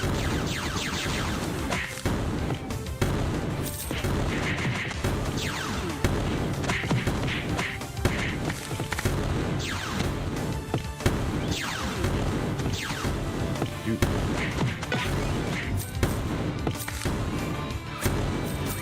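Explosions and chaotic combat crashes from the G.I. Joe: Wrath of Cobra video game, dense, repeated booms and smashing impacts layered over constant action noise, loud and busy throughout.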